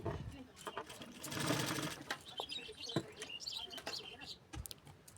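A sewing machine stitches a katori blouse seam in short clattering bursts that speed up and pause, with faint rustling of the fabric being turned by hand and soft background chirps.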